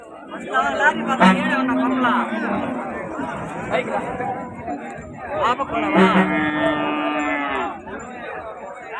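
Cattle moo loudly in long, drawn-out calls, two main bellows several seconds apart, over a crowd of chattering voices at a busy outdoor cattle market in Punganur selling large bullocks and cows.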